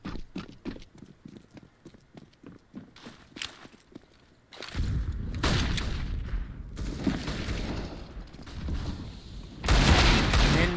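Counter-Strike (CSGO) match audio with rapid clicking and footsteps, then heavy bursts of gunfire and booming shots that fill the second half, loud and dense toward the end.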